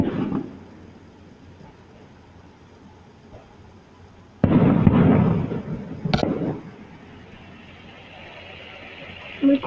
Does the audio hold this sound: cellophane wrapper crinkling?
no